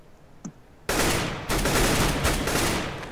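An AK rifle fires in CS:GO, a loud sustained burst of rapid automatic gunfire that cuts in sharply after a faint moment and rattles on to the end.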